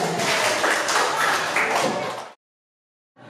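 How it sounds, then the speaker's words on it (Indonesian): Workshop participants applaud together in a counseling session room, a dense burst of clapping lasting about two seconds before cutting to silence, then a faint resumption at the very end. "tepuk tangan untuk semuanya"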